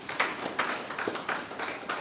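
Applause from an audience at the commissioning of a university incubation and co-working hub, a brief burst of clapping that swells in repeated waves across two seconds, moderately loud and without talk.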